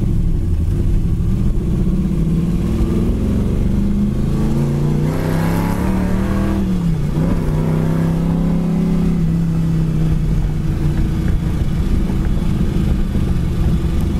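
A 1969 Chevy Nova engine idles loud and close with a steady rumble, then rises in a revving swell before settling back to a steady idle, with no talking over it.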